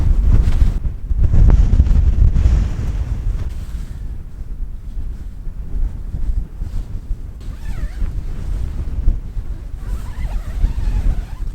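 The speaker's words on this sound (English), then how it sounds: "Did not expect it to be this breezy." Strong mountain wind roars and buffets the microphone in heavy continuous gusts, loudest early on and easing slightly before surging again, with faint rustling underneath at a campsite.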